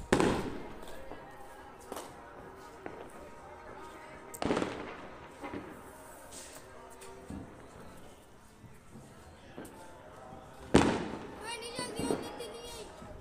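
Diwali firecrackers and fireworks burst in a few sharp, loud bangs spread across the stretch, followed by a rapid crackling flurry near the end, with people talking in the background.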